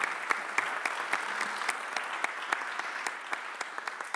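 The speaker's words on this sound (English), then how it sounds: "I would really like a big round of applause because they make our projects a success." Conference audience at a tunnelling awards round table giving a round of applause, steady moderate clapping from a crowd with a few distinct sharper claps standing out.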